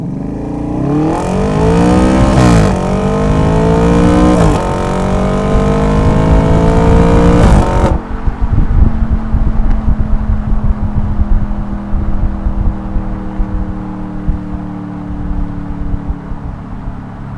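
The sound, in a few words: Audi RS5 engine revving with muffler delete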